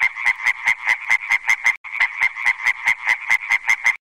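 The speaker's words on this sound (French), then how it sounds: "Je suis une petite grenouille verte." Green frog croaking in a rapid, steady run of short, bright pulses, loud and close, with one brief break partway through and no talking over it.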